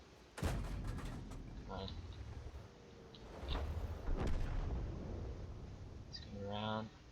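M4A3E2 Sherman Jumbo tank cannon in a video game, several loud booming shots spaced over a few seconds under engine rumble, with someone talking between them.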